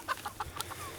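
Chickens and big roosters cluck in a few quick, close bursts, a short run of throaty clucks with no talking.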